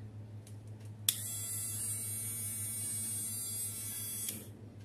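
KOMAX 12V mini electric grinder switches on with a click and runs for about three seconds with a steady high whine, then stops, over a low constant electrical hum.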